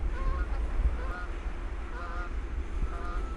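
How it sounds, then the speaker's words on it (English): Canada geese honk repeatedly at a distance over a steady low rumble of wind or background noise, in sub-zero snowy weather. "The ever-present Canadian geese."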